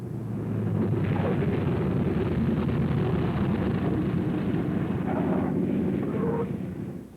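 A World War II P-47 Thunderbolt fighter comes in for a rough landing, its engine a loud, heavy rumbling roar that swells and holds, then eases off near the end.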